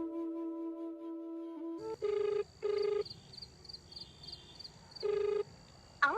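A phone call is placed: a few dial tones give way to a ringback pattern of repeated, evenly spaced electronic rings, fairly soft and close, with no talking.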